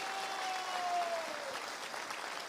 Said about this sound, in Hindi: मैं चाहता हूं एक जोरदार ताली हमारे